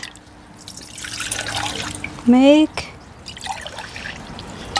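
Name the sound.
water poured for kimchi sauce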